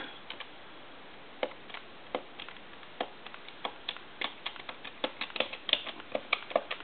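A quick run of light mechanical clicks as numbers are dialed on a Mickey Mouse telephone, coming in short bursts that grow slightly busier and louder.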